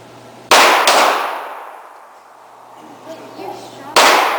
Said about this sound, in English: I shoot one nice part, one shot.